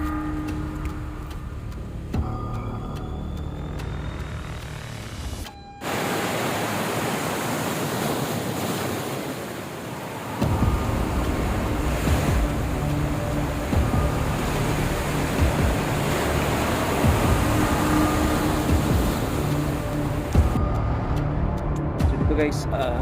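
Surf washes and rushes continuously along a rocky shore, with gusty wind noise on the microphone and a voice speaking at times.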